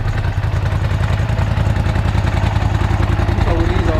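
A quad bike engine idles and runs close by in a steady, rough, pulsing clatter, loud and continuous with no clear rev changes.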